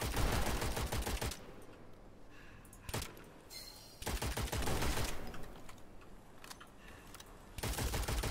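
Bursts of rapid automatic gunfire from the shooter game Witchfire, loud and close, coming in several distinct volleys separated by short quieter gaps.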